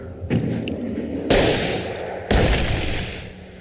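Gunshots fired upward in the horror action game Alan Wake: two sharp, loud broadband blasts about a second apart, each trailing into a long rumbling echo, with a softer rustle before the first.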